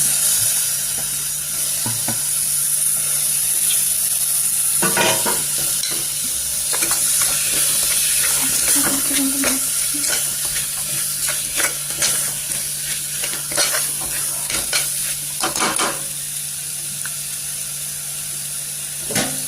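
Chopped tomatoes and marinated chicken fry in a pressure cooker for biryani, a continuous loud sizzle and hiss with repeated scraping stirs and clatters of a spoon against the pot throughout.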